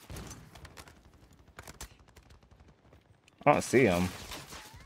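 Rapid gunfire in Warzone 3 on Rebirth Island crackles in dense, overlapping bursts, loud and close, before a voice briefly cuts in near the end.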